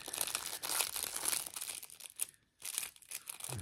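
Crinkly plastic packaging rustles and crunches as it is handled and pulled open, close by, with a brief pause near the end.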